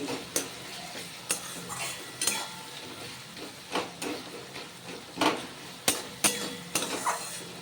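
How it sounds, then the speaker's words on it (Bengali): A spatula mashes softened onions and tomatoes in a pan for Bengali egg curry, sharp repeated scrapes and knocks against the metal at an uneven rhythm over a quiet sizzle. "দু মিনিট পর দেখুন অনেকটাই নরম হয়ে গেছে পেঁয়াজ আর টমেটো আমি স্প্যাচোলা দিয়ে একটু থেতো করে দিচ্ছি"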